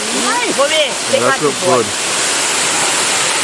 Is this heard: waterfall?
yes